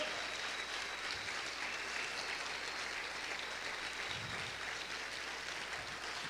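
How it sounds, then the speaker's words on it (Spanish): A church congregation applauds in a continuous, even wash of clapping for several seconds, sounding fairly distant and steady without breaks. "Aplaude fuerte al Señor"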